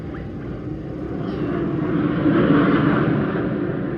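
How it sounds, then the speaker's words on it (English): Fixed-wing planes passing overhead during an outdoor bottle-rocket activity, a steady broad engine drone that swells slightly toward the middle and stays moderately loud, with no talking. "There are those planes again."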